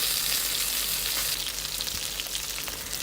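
Chicken pieces frying in a pan in their own rendered fat for a teriyaki dish, giving a steady, close, hissing sizzle with small crackling pops throughout and no voices.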